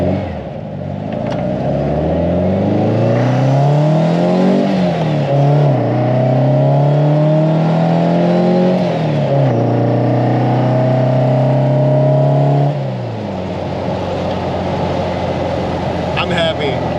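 Restored 1956 Volkswagen air-cooled engine fed by 40mm Dellorto carburetors, running loud and close, revving up and settling back several times in repeated sweeps before dropping to a rough idle.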